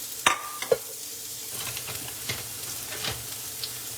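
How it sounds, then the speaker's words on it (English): Onions hitting a hot skillet and sizzling, with a couple of sharp clinks of a utensil at the start, then soft crackling and stirring noises at moderate level. "I want to add in those onions."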